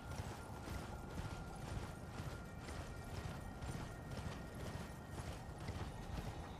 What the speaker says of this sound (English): you're going to be listening for giant footsteps